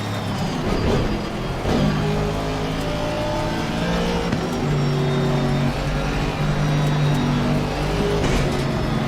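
Racing car engines in a sim racing game, several cars droning and revving steadily through gear changes, with a couple of brief roaring surges and whining pitch shifts throughout.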